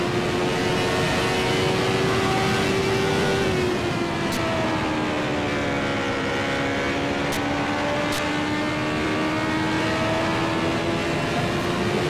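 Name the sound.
CART Indy race cars racing through the turns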